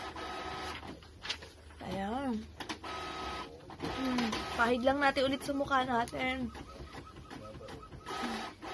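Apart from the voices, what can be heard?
printer running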